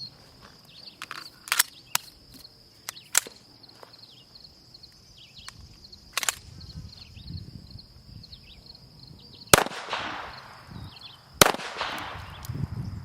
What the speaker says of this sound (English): So now we're actually going to be shooting at them. I've got a 22, a 9mm SIG, and a 40 caliber H&K